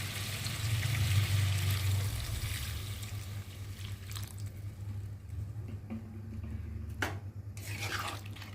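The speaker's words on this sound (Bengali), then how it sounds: "আর এখন আমি পরিমাণ মতো জল দিয়ে দেবো" Water is poured into fried spice paste for a pabda fish curry, a soft gushing hiss at first that settles into quiet bubbling and squishing in the pan, with a brief clink later and no talk.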